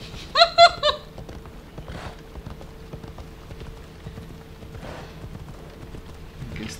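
A horse gallops in Assassin's Creed Odyssey, its hooves clip-clopping in a steady, rapid rhythm at moderate distance throughout, after a short burst of voiced sound at the start.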